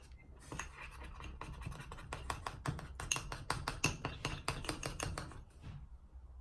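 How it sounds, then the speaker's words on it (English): A mixing tool works through fairy liquid slime in a bowl, giving a run of quick, dense scraping and clicking strokes. The strokes are close and fairly quiet, and they stop abruptly near the end. "you grab your mixing tool and you just mix it all together"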